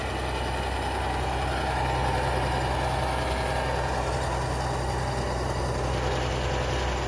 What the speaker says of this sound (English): Coming downhill, you can hear the engines hardly running.